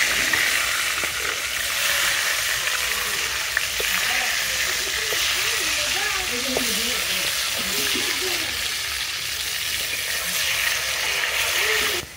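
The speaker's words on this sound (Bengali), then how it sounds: "ডিমের তরকারি রান্নাটা শুরু করে দিচ্ছি" Egg curry with fried eggs and potatoes sizzling and frying in a pan, a constant loud hiss throughout with faint voices murmuring underneath.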